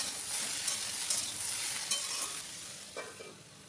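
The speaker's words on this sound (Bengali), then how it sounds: "একদম শুকনো শুকনো করে ভাজবো।" Potatoes and pointed gourd dry-fry in a pan with only salt and turmeric and no water: a soft, even sizzle with a few stirring scrapes, fading slightly near the end.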